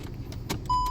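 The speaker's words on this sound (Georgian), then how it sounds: "ჩააქრე მანქანა" A car being switched off with the key: a few soft clicks and knocks of the key turning, then a steady electronic beep tone that sounds up close in the cabin.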